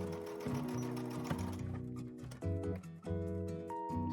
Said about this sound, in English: sew across the corner to create the back depth